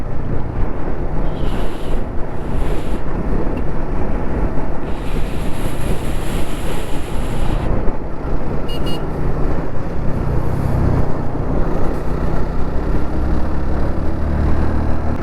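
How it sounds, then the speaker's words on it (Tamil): Busy Sunday road traffic on a monsoon-season ride, heard as a steady, loud roar of passing vehicles and road noise with heavy wind buffeting across the whole stretch. "இன்றைக்கி ஞாயிற்றுக்கிழமைனால டிராஃபிக்கு ஓவராக இருக்குது"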